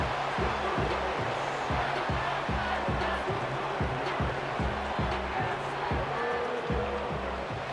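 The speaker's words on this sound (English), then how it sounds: "The crowd cranking it up another notch before third and long." Stadium crowd in the Madden NFL 25 football video game roars steadily throughout, a loud continuous wash of noise with a regular low, pulsing beat underneath.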